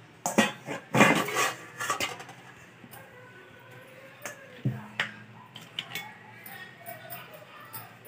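A metal lid lifted off a hot cooking pot, with a few loud clanks and clinks of metal against metal followed by softer scattered taps, while a person talks at times.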